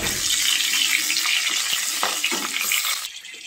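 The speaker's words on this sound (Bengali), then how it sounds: "পাঁচফোড়ন আর লঙ্কা ভাজা হয়ে গেছে।" Panch phoron and green chillies frying in hot oil in a home kitchen, a steady dense sizzle with light stirring clicks that drops off near the end.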